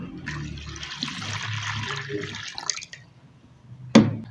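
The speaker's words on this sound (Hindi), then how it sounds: "इसमें हमने डाल देना है पानी" Water pours steadily for a few seconds, splashing into a bowl, then a brief clatter follows after a short pause.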